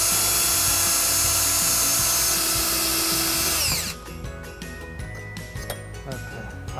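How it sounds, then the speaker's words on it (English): A power drill bores holes into the bottom of the bumper on a 2010 Jeep Liberty. The motor whines loud and steady for several seconds, then drops away, leaving quieter clanks and handling noise. "just drill a couple of holes in the bottom of the bumper"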